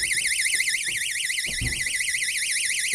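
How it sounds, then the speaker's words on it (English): A homemade water alarm built for a washing machine lint filter sounds a loud, continuous warbling electronic tone, with brief low murmurs and knocks underneath. "And the alarm did go off."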